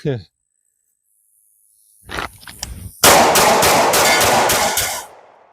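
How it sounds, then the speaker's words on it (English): Two 1911 pistols fitted with compensators fire at the same time: a few sharp opening shots, then a rapid run of about six loud, close, booming reports that trail into echo. A brief voice sounds at the start. "And I'm going to shoot both at the same time, just like all my favorite movies."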